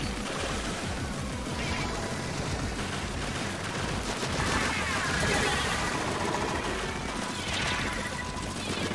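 A Booyah Bomb special weapon detonates in a video game, a dense, sustained roar of blasts and crackling impacts filling the whole stretch at steady loudness with no clear pauses.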